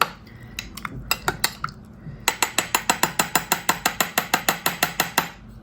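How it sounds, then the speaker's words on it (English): Dandelion flowers being stirred in oil in a jar or pot, a metal utensil clinking against the container in a fast, even run of about twenty sharp taps after a few scattered knocks. "give it a good stir so that they can all get infused with the oil"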